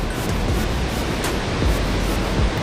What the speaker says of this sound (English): The water hits you kind of hard, but totally worth it.